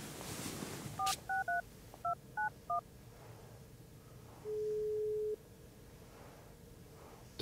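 Telephone keypad tones beep in a quick series of short two-tone pulses, then a single longer steady tone follows, all faint and close on a phone call to a mother, with soft room background.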